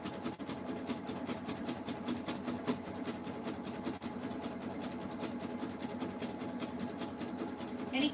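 A sewing machine runs steadily while stitching fabric strips into a jelly roll rug, its motor holding a continuous whirring hum with a fast needle rhythm and no pauses.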